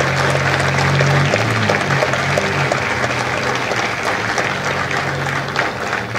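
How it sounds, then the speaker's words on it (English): A crowd of audience members gives sustained, loud applause for Marine veterans at a Marine Corps Recruit Depot San Diego recruit graduation ceremony, with steady dense clapping running the whole time and low hum beneath. "a round of applause for their dedicated service"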